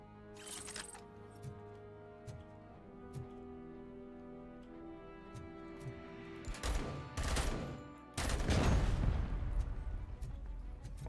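Rifle gunfire in the Robocop video game: a few sharp shots ring out over steady background music, followed by a heavy, sustained burst of loud firing near the end.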